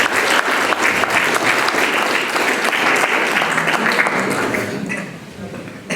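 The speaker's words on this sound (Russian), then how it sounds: "Аплодисменты!" Audience applauding at an award ceremony as honorees take the stage, dense continuous clapping that holds steady then tapers and fades near the end.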